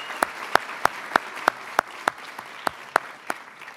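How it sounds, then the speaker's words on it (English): Audience applause at a cocktail history talk, a dense wash of clapping with a few loud, evenly spaced nearby claps standing out over the crowd. "applause are nice"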